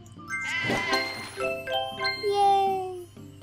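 Sheep in the Divide By Sheep video game, bleating loudly in wavering, overlapping cries, with a few light chiming tones mixed in, close and continuous.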